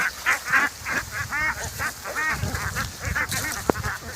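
A flock of ducks being herded to the field by a herder with a stick quacks in rapid overlapping bursts, nearby and noisy, with a sharp click or knock near the end.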